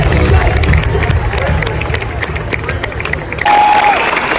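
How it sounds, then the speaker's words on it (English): A crowd at a conservative, pro-Second Amendment gathering breaks into sustained applause, dense clapping and cheering that stays loud and even throughout, mixed with crowd babble. "Give it up for Kyle."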